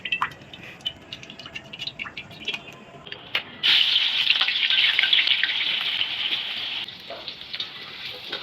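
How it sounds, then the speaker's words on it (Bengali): Onions sizzling in soybean oil in a wok over a clay stove fire; a steady hiss swells loudly midway and holds for a few seconds, with scattered crackles and pops before and after. "এরপর উনুনে একটি কড়াই বসিয়ে দিয়ে দিল এতে সয়াবিন তেল আর পেঁয়াজ।"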